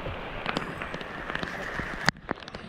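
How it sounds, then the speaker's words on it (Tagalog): Heavy rain with some wind pours down on a tent in a rural province, a dense, steady hiss with scattered sharper drops and one louder tap near the end. "biglang lumakas yung ulan. May konting hangin din."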